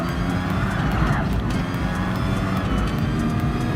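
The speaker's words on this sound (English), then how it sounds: "kind of like that classic sound of that Formula car, but definitely the high-speed engine sound in present modern day" Formula Gran Turismo car in Gran Turismo Sport, a modern wide-body Formula 1-style racer in an F1500 championship, its high-revving engine holding a steady, continuous whine throughout with no pauses.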